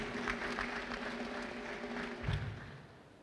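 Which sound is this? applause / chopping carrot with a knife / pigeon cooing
applause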